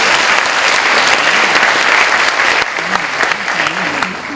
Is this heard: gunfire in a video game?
no